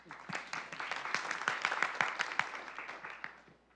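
Audience applause at an international review conference on the rights of persons with disabilities welcomes a speaker: distinct individual claps swell into a moderate round, then thin out and fade toward the end.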